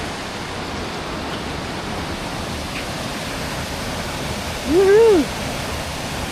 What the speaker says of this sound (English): This is Ross Creek Falls.